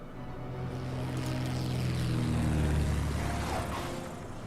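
A German Arado aircraft coming in to land in a World War II strategy game, its propeller engine droning steadily, swelling louder toward the middle and then easing off as it passes.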